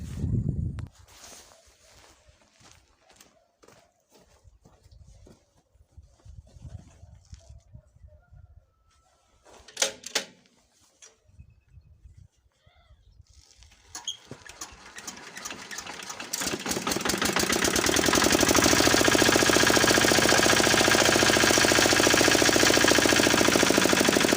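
A Zarya 8KS walk-behind tractor is handled with scattered knocks and footsteps. Its engine then starts, builds, and settles into a loud, continuous close-up roar that runs for the last several seconds.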